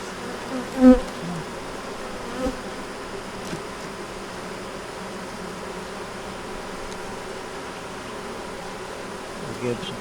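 Honeybees buzz at an opened hive during a check for queen, eggs and stores, a dense steady hum of many bees close by, with a couple of soft knocks.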